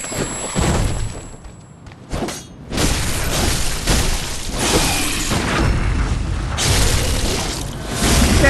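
Bloodborne gunfire amid loud, dense game combat: a sharp burst near two seconds after a brief dip, then a continuous wash of booming, crashing impacts and clatter with no clear gaps.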